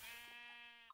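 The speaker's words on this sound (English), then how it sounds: "Just one sheep. It's outside again." A single sheep bleats in the Minecraft video game, one drawn-out wavering bleat, faint and alone.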